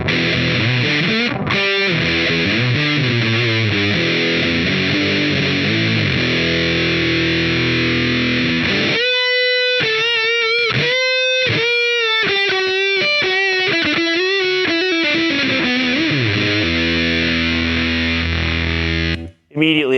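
Electric guitar through a Big Muff fuzz pedal, thick and saturated, playing sustained chords and then fluid sustaining lead runs with singing held notes, loud and continuous throughout.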